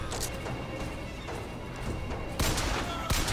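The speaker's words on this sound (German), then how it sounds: "Die schießen auf mich." Enemy gunfire crackles in a BioShock Infinite firefight, with bursts of shots and sharp impacts, loudest near the end, over busy in-game background noise.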